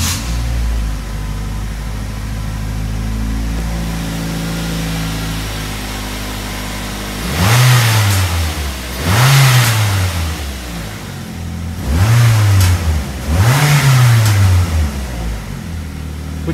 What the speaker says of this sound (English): this is the stock intake noise